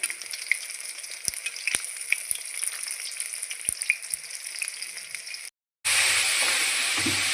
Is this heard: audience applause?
no